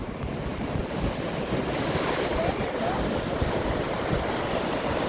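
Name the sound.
ocean waves near Phare des Baleines lighthouse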